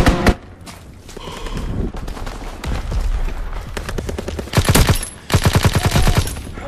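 Aircraft strafing-run gunfire in the Call of Duty WW2 video game: dense bursts of rapid shots, loud and close, with heavier volleys toward the end.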